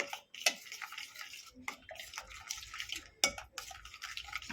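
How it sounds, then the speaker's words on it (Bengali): Ground cumin and salt mixed together in a pan for a vegetarian cauliflower roast, with intermittent metallic scrapes and clinks of a spoon against the pan amid soft background noise. "হাফ চামচ জিরে গুঁড়ো স্বাদ মতো লবণ সবগুলো আবারও একসঙ্গে মিশিয়ে নেব"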